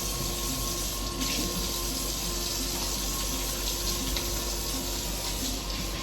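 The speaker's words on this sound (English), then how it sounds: "hand wash." Hands being washed under a running kitchen tap, a steady close stream of water splashing into the sink at moderate volume, uninterrupted and without talk.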